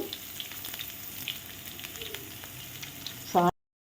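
Close, steady sizzle of tempering spices crackling in hot oil for rasam, followed by a brief louder burst just before it cuts off.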